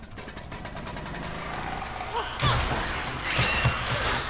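A diesel generator in The Last of Us Remastered: Left Behind is pulled to start, with a mechanical clatter giving way to a loud, rumbling engine running steadily, with a voice talking beneath it.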